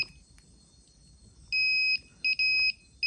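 A multimeter with a faulty probe gives sharp, high electronic beeps in irregular bursts, some long and some very short, over a quiet background during phone repair troubleshooting.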